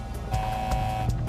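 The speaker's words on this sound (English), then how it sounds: "we heard the trim and motion warning horn go off." An aircraft cockpit trim-in-motion warning horn sounds in a loud, steady tone with a rhythmic pulsing over roughly a second, alone without speech.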